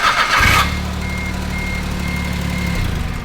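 Race car engine on a fresh battery cranks briefly, then catches and settles into a loud, steady idle with deep rumbling harmonics; no talking.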